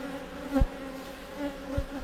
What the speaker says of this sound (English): Look at all those extra bees on that slatted rack.